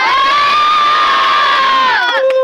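A crowd at a rap battle in a sports complex in Pilar, Las Piñas cheers and whoops loudly and continuously, with high shrill voices riding over the roar before it breaks off.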